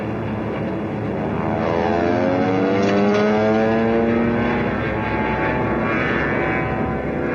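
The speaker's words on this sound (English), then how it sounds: "Nazi planes. They're enemy planes, sir." Enemy warplanes roar overhead in a World War II submarine war film, a loud, sustained engine drone that slowly shifts in pitch with no speech.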